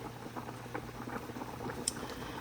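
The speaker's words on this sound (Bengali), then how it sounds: "এখানে মিষ্টি কুমড়া তরকারিটা রান্না করতেছি ঢাকনা ছাড়া" Pumpkin curry simmering uncovered in a pot on a kitchen stove, giving a soft, steady bubbling and faint patter of boiling liquid, low and continuous throughout with no talking.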